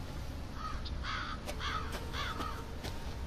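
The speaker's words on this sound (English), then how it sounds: "Bunch of crows." Several crows caw in short repeated bursts within Resident Evil 7, moderately distant over a steady ambient background hum, with no talking.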